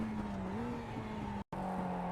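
A Mazda MX-5 race car on the Okayama circuit in iRacing, giving a steady, buzzing engine drone that holds a fairly even pitch with a slight rise and dip, plus one very brief cut-out of sound near the end.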